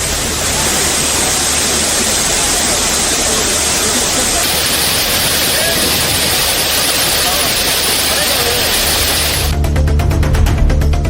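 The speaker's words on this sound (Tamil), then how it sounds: "அனைவரும் அருவியில் ஆனந்தமாக குளித்து மகிழ்கின்றனர்" A waterfall where tourists bathe roars as a dense, steady wash of water noise across the clip, shifting to a deeper, muffled rumble near the end.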